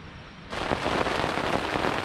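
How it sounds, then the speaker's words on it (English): Heavy rain pours down outside at a clifftop camp, starting abruptly as a steady, dense hiss that stays loud and constant, with no talk over it. "It started pissing down with rain."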